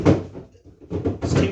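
A refrigerator's beer drawer sliding open or shut, a close, muffled rumble with two bursts of sliding noise separated by a short pause.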